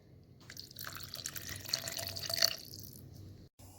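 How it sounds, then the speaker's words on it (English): Water pours briefly into a ground spice mixture, a soft splashing trickle that builds for a few seconds and then stops. "To this I'm going to add half a cup of water."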